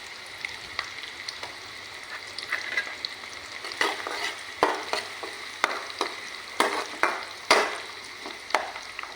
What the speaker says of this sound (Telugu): పచ్చిమిర్చి ముక్కలు వేసేసుకొని వేయించుకోవాలి.